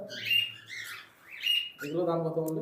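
Caged pet birds, budgerigars kept in a home loft, chirping and tweeting close by in quick bright bursts, with someone talking over the latter part.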